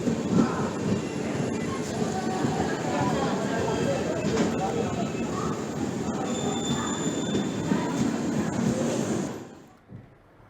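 The Godavari Express passenger train rumbles along the rails with steady wheel noise and faint squeals, loud and continuous before fading out abruptly at the end.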